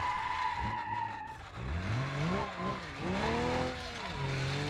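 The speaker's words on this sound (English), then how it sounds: "we're dragging the skid plate on the ground" In BeamNG.drive, a car's tires squeal and skid, its skid plate dragging on the ground, with loud suspension and a revving engine whining up and down, fairly steady throughout.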